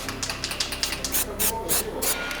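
Short bursts of hissing spray from an aerosol can, several quick pulses in a row, close up with faint movement noise between them.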